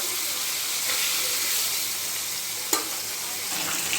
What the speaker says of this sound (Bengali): কড়াইয়ের তেল গরম হয়ে গেছে, আমি এবার মাছগুলো ভেজে নেব।